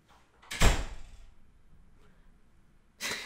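A room door is opened and then shut, making two separate thumps about two and a half seconds apart, moderately close, with quiet rustling between and no talk.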